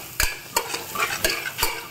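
Turmeric being stirred into onions and ginger-garlic paste frying in a pan for a mutton curry, with four distinct scraping stir strokes over a steady sizzle, close and fairly loud.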